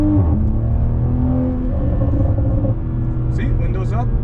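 A Toyota Supra fitted with an HKS Hi-Power exhaust, in sport mode with the valves open and the windows up, pulls hard from inside the cabin, with a deep, rumbling engine drone that stays loud and steady while a voice briefly speaks near the end.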